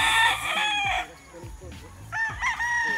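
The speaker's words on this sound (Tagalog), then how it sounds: "daghan kayo manok." A rooster crows loudly up close at a game fowl farm, followed by scattered clucking and softer crowing from several chickens nearby.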